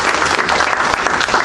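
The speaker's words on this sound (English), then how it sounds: "Let's give God a hand clap of praise." Congregation at a church revival claps in praise, a full, steady burst of many hands clapping together, close and energetic for a brief moment.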